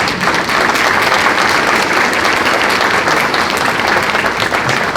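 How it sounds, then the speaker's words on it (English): A standing audience at an overdose awareness summit applauds treatment-field workers, a loud, thick wash of continuous clapping that stays constant throughout. "Give them a round of applause."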